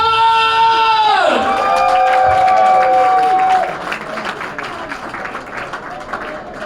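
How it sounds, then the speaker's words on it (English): A comedy club crowd claps and cheers for a stand-up comedian. A loud musical sting with gliding tones plays over the applause and whoops at first, then the clapping continues more quietly on its own. "I want you guys to keep on clapping for the very funny Russell Keller!"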